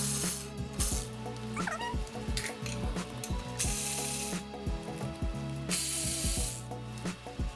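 A ratchet spins and clicks in repeated bursts while removing suspension bolts on an EK Honda Civic during a brake upgrade, close and clear with short pauses and metallic knocks between runs.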